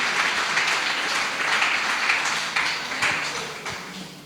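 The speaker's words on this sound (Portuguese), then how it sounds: "Aleluia, pode aplaudir." A church congregation applauds together, a dense broadband wash of many hands clapping at steady volume for about four seconds before easing off slightly, with no speech over it.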